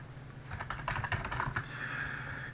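Quick bursts of keystrokes on a computer keyboard, uneven and clattery, fairly close but soft, with a faint steady hum underneath and no voices.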